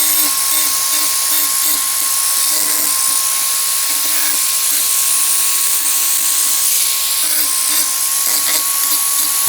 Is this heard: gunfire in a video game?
no